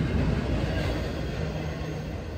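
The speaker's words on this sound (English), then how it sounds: "There's the train." A train passes Royersford station, a 1931 roadside stop, with a loud, steady rumble of rolling cars and wheels on the rails, continuous and close throughout.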